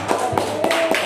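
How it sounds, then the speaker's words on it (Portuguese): Hands clap for Jesus during a church service, heard as a few close, sharp claps in quick succession. "bate palmas para Jesus"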